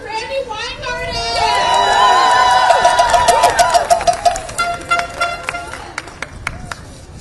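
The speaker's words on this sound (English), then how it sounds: "Please start clapping for Randy Weingarten." A rally crowd backing Starbucks workers claps and cheers loudly for a speaker being introduced, with whoops and shouts swelling into sustained applause that then breaks into scattered claps as it dies down.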